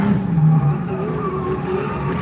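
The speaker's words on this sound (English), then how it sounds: "Lays the tyres down." A V8 S13 drift car lays its tyres down on a drifting track at Oakburn Park in NSW, Australia, giving a loud, sustained engine roar and tyre squeal that carries steadily throughout.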